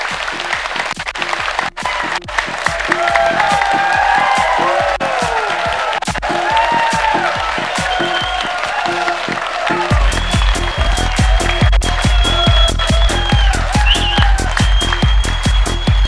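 An audience in a hall claps steadily, loud and sustained, with the rhythm tightening into more unified beats partway through and a few faint voices underneath.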